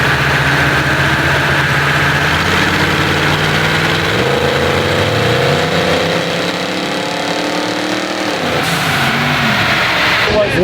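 A Ford Bronco engine runs steadily throughout, its pitch rising and falling as if revved, with a voice speaking over it.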